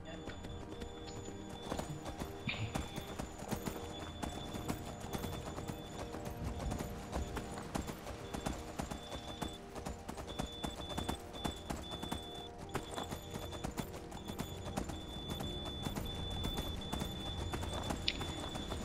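Horse hooves clip-clop steadily on the ground in Skyrim while the horse wears dragonplate armor, with an occasional whinny and a person talking throughout over constant background game sound.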